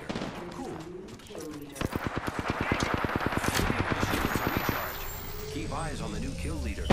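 Rapid automatic gunfire in the video game Apex Legends, a steady burst of evenly spaced shots lasting a few seconds between scattered single reports, with game effects and some chatter around it.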